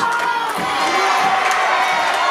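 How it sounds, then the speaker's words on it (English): A pro wrestling audience roars and cheers continuously around the ring at a Christmas-themed event, a dense, loud wall of crowd noise with scattered shouts and whoops rising out of it. "The crowd is cheering."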